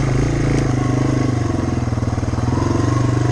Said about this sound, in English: Down in the first here, crawling along, and you can almost go at trials riding pace, just the first gear if you wanted